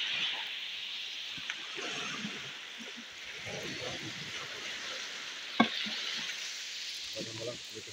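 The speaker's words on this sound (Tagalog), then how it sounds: "Mag-prito tayo, prito." Fish frying in a pan, a steady close sizzle of hot oil running throughout, with occasional clinks and soft voices talking in the background.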